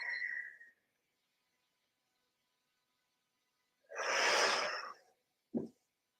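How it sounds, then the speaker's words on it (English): A person draws one long, deep breath in during a breathing exercise in a shiatsu and energy work class. The inhale is soft and airy, followed by a short sharp sniff, with near silence around it. "Breathing in."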